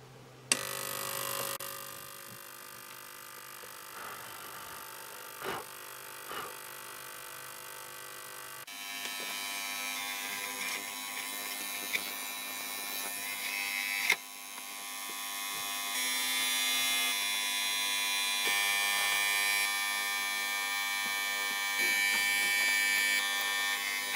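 A BK-3550 ultrasonic cleaning bath runs at about 35 watts with warm water near 55 degrees, giving a steady electric hum and high whine. The tone shifts and grows brighter partway through, with no talking.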